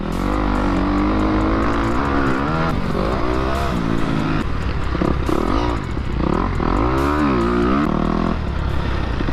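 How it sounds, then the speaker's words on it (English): KTM motocross bikes ride a dirt track in Houston, Texas, engines revving hard and rising and falling as riders accelerate and shift, loud and continuous throughout with no talk. "Dude on a KTM is ripping."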